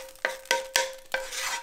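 Pan-roasted tofu scraped and stirred out of a frying pan into a bowl, four sharp scraping strokes about a quarter second apart with light sizzling between, close and without talk.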